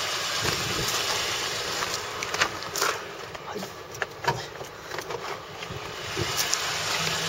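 A first-generation Honda Insight with manual transmission idles at about 181,000 km after starting, its low, steady engine hum continuing under irregular thumps and clicks close by.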